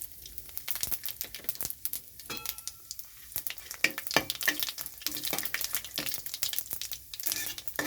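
Whole garam masala, bay leaf and white cumin seeds crackle in a small amount of hot oil, irregular sharp pops and sizzles scattered over a soft frying hiss, fairly quiet and close.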